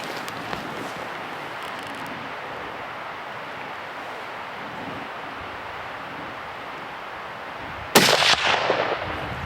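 A single loud rifle shot cracks out near the end of a whitetail deer hunt in the Texas Hill Country, following several seconds of quiet outdoor wind and ambience.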